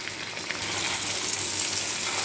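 Pongadalu, a fluffy and crispy sweet snack, frying in hot oil, giving a steady, close, continuous sizzle that grows slightly louder and runs without a break.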